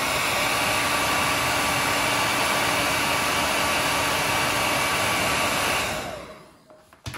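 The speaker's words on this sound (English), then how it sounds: "I use a hairdryer." A hairdryer runs loud and steady while drying paint on a painted drake mallard gunning decoy, a constant whooshing blow that cuts off near the end.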